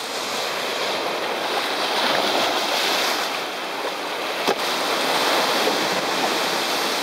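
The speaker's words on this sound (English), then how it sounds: "There's the waves." Ocean waves at a sea cliff in Ireland surge and wash in a continuous roar, mixed with wind buffeting the microphone and one brief sharp knock.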